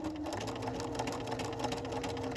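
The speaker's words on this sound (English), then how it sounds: "So now it's sewing backwards" A sewing machine runs a buttonhole stitch in reverse, a steady, close, continuous mechanical whir with a fast, even stitching rhythm throughout.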